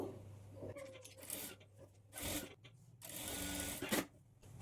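Sewing machine stitching the folded-in waistband strip of a blouse, running in several short, fairly close bursts separated by brief pauses.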